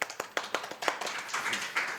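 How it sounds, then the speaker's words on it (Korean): A single person claps steadily at a business forum, giving close, sharp claps in a quick, regular rhythm that soften toward the end, with no talking. "제가라도 이렇게 박수를 좀 쳐드리겠습니다."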